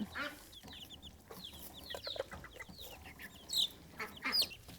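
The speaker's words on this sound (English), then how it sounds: "And Mama Hen here, she's in there having a go as well." A hen clucks and pecks while feeding alongside other fowl in a farm setting, with a run of soft, close clucks and a few sharper calls toward the end.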